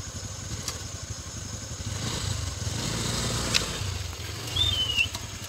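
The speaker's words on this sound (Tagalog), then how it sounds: "subukan natin yung Honda Click 125" A Honda Click 125 automatic scooter runs quietly, a low, steady engine hum that swells slightly midway, with a couple of faint clicks and a brief squeak near the end and no talking.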